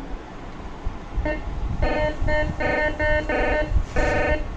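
A Garrett GTI 2500 metal detector sounds over buried steel in soil with a series of buzzy, harmonic tone bursts that pulse in short repeated groups, steady and close, over a low outdoor background hum.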